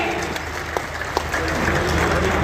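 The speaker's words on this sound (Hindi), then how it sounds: "बस जोरदार तालियां हमारे सभी अन्नदाताओं के लिए।" A crowd at an outdoor government ceremony honoring farmers breaks into sustained applause, a dense, even roar of clapping with a few louder individual claps standing out.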